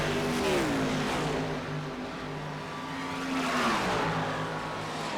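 Race cars in a multi-class iRacing battle at Michigan: a steady, loud engine drone with rising and falling pitch as the cars shift and jostle, several engines blending together with no talking.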